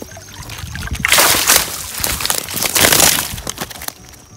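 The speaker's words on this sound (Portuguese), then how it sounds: "Tirar o saco de peixe da água." A bag of tilapia is hauled out of the water with close, loud sloshing and splashing in two surges, then the dripping fades.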